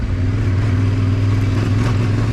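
A Yamaha T7 adventure motorcycle rides off-road, its engine droning steadily and loudly with a rumbling low throb and constant wind rush, no talking.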